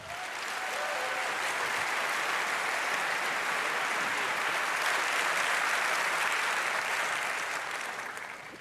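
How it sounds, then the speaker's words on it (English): A conference audience gives warm, steady applause to welcome a speaker onto the stage. The dense clapping holds at an even level for several seconds with no talking over it, then starts to fade toward the end. "Give him a very warm applause."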